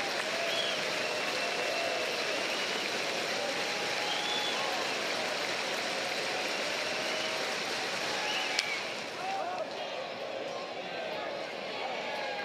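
A capacity crowd at a college baseball stadium cheers and applauds in a steady, dense roar that holds for the whole stretch, with a brief sharp crack near the end before the noise thins slightly.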